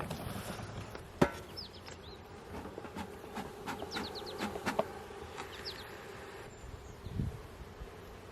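Honey bees buzz around a hive kept by new beekeepers, a steady close drone with individual bees whining past, sporadic clicks and rustles, no talk.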